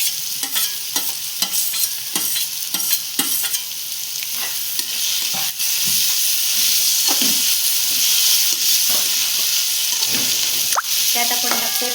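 Steamed potato goes into a pan of sautéed capsicum for a jackfruit biryani, bringing a steady sizzle and hiss of frying along with repeated scraping and stirring of the spatula against the pan.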